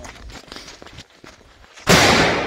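A firecracker goes off in a forest with one loud, close blast that rings out and slowly fades, after a stretch of quieter outdoor noise.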